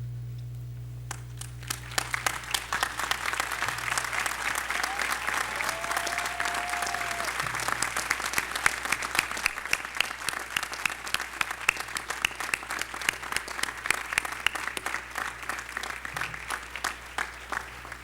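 A graduating class at Carnegie Mellon's 2004 commencement ceremony rises in a standing ovation for parents and grandparents: dense, sustained applause that swells after a quiet start and continues steadily under a low hum.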